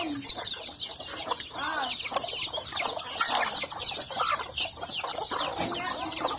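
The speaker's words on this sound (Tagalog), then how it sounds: "May mga manok dito ng pinsel." Farmyard chickens on a rural Philippine farm cluck and chatter in a busy, overlapping chorus of short calls at close to moderate distance, with a brief spoken exclamation at one point.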